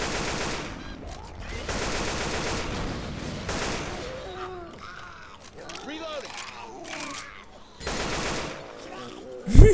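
Gunfire in Left 4 Dead 2, with bursts of rapid shots at the start and again near the end, mixed with game noise and players talking over it.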